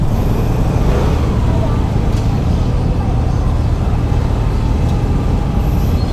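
Dense, loud road traffic rumbles continuously, a wash of car, bus and truck engines close by with faint hisses of air brakes, while a person talks over it.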